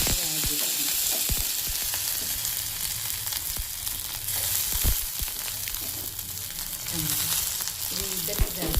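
Onion, green chilli, tomato and curry leaves frying in hot oil in a pan, a steady close sizzle broken by occasional stirring clatter and scrapes.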